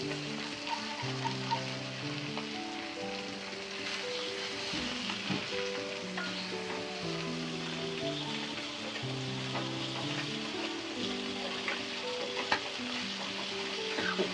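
Fish fries in hot oil in a pan with a continuous, even sizzle and faint crackling spatters, moderately quiet and steady throughout with no voices.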